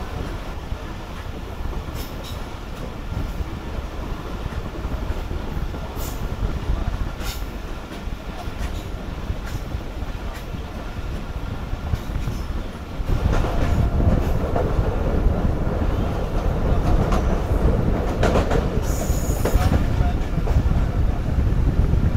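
Old coaches of the Karakoram Express run at a cautious restricted speed on the Shadabagh–Sangla Hill branch line, producing a continuous rattling rumble mixed with wind noise that grows noticeably louder partway through.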